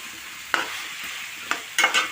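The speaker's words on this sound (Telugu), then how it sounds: "మునక్కాయలు కూడా ఆయిల్ ఫ్రై చేసిన. ఇంకా బంగాళదుంప కూడా వేసేసిన." Drumsticks and potato pieces frying in hot oil in a pan, a soft continuous sizzle broken by a few sharp stirring scrapes near the end, no talking.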